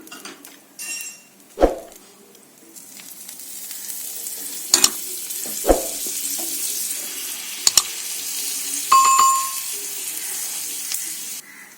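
Paneer sandwich toasting in a pan, with a steady soft sizzle broken by a few sharp clanks and scrapes of a utensil against the pan, close and alone without talk.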